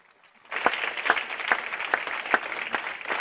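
A church congregation applauds to acclaim the Holy Spirit, steady clapping starting abruptly and sustained at moderate loudness, with regular sharper accents that suggest rhythmic group clapping and no talk over it.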